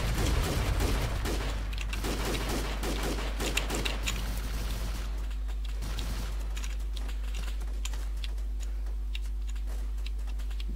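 Rapid bursts of gunfire crackle through military video game combat, loud and dense for the first five seconds, then thinning to scattered shots over a steady hum.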